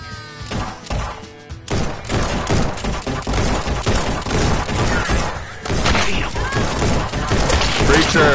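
Gunshots in the VR shooter Guns n Stories: Bulletproof fire in rapid, dense volleys of loud cracks and thumps that run almost continuously over background game sound.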